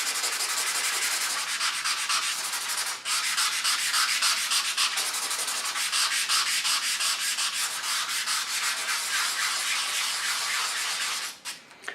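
A nail file rubs briskly over an embossed paper card, a loud, close, continuous rasping scrape in steady back-and-forth strokes for about eleven seconds, with one brief pause near the start and a few light taps at the end.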